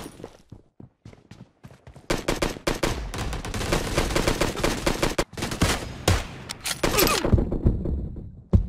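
PUBG Mobile match gunfire: scattered single shots, then a dense, loud stretch of rapid automatic bursts with breaks and more shots near the end, without talking.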